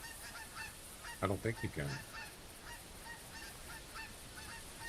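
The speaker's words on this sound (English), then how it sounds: "Stupid geese, be quiet." Geese honk in theHunter Classic's Hirschfelden area: a quick cluster of four or five loud, close honks. Someone speaks briefly, and a steady outdoor ambience continues underneath.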